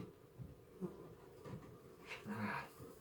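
Faint, intermittent buzzing of honeybees drifting close and away during a beehive inspection, with a quiet outdoor background and no talking.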